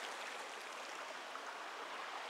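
Steady, soft rush of a creek flowing beside a campsite at the base of a cedar stump, a continuous even wash of water with no voices.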